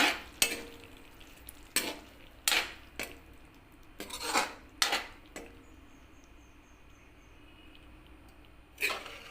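Dishes and utensils are handled while a cooked fish and lentil dish is plated in a home kitchen. Several sharp clinks and knocks of pots, plates and spoons arrive in irregular bursts with quiet gaps between them, and no one speaks.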